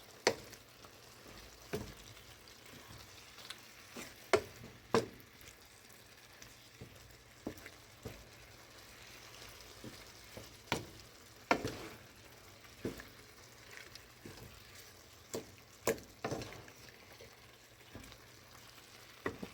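Dried fish (tuyo) frying and being mixed in a pan for Bicol Express, a steady soft sizzle under scattered scraping clinks of a utensil against the pan, with no talking.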